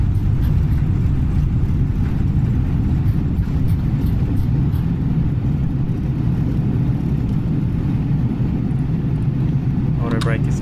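In MSFS 2020, an A320neo with reverse thrust after landing gives a heavy, constant low roar and rumble of engines on the runway, with someone talking over it.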